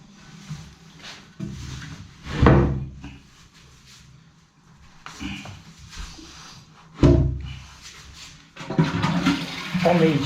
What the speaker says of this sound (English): We'll flush it a few times